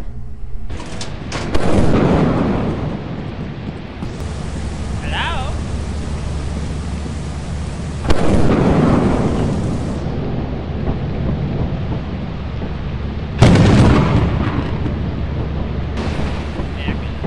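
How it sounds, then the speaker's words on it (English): Lightning strikes in the Lethal Company co-op horror game, each a loud sharp crack with rumbling thunder; three bursts come several seconds apart over steady rain-like noise, with voices talking in between. "Died from a lightning strike is kind of funny."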